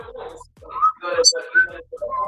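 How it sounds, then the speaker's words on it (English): Someone whistles in short wavering notes, with soft voices talking quietly underneath. "Can you stop whistling?"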